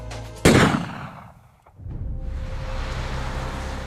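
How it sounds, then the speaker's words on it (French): A single gunshot cracks loudly and close at a Moscow bridge over the Moskva near the Kremlin, decaying quickly into a low rumbling street hum with no voices. "un premier coup de feu le frappe dans le dos"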